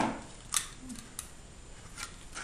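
Scissors cut into a paper cup with a few sparse, quiet snips spaced over a couple of seconds against a soft background hush, with no one talking.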